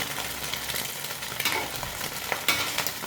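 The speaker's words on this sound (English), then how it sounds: "omelette that's frying up now" A Teochew-style oyster omelette sizzles steadily in a hot pan, a dense crackling hiss with occasional brighter pops and a stir, no talking.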